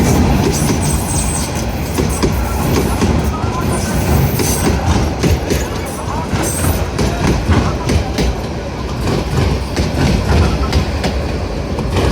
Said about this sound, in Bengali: ট্রেনটির গতিও কমানো হয়েছে